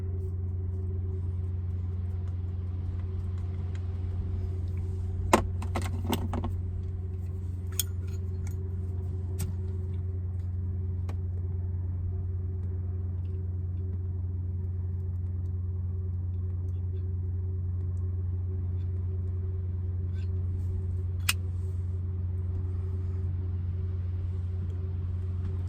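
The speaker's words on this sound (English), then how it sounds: "That sound you hear is actually the engines I gotta check." Engines running as a steady low rumbling drone throughout, faint and constant, with a few soft clicks and ticks nearby.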